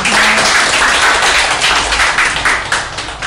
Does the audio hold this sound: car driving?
no